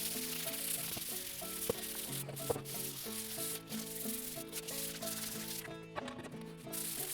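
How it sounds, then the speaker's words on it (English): Sanding a Honda CR250 exhaust pipe, a continuous rubbing and scraping with uneven strokes, faint and close, accompanied by tonal background sound. "So we've got our pipe all sanded."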